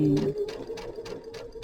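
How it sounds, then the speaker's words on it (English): A sewing machine stitches quilt fabric pieces together, running in a steady rhythmic whir of five or so even pulses, close and moderately loud, with a brief voice at the start. "So I'll lift my foot a little bit, just tuck it under there, right at the guide, and let it pick it up and start sewing."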